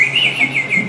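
An audience member imitates a bird singing at a family stage show, giving a steady, high, warbling whistle that wavers in pitch for about a second, loud and close, with no talk.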